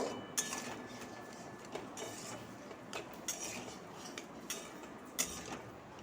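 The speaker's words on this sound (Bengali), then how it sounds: "এবার একটু নাড়াচাড়া করে নেব" Mango being stirred in a cooking pot with sugar added, soft spoon scrapes and light metallic clinks against the pot at an uneven pace, fairly faint and close.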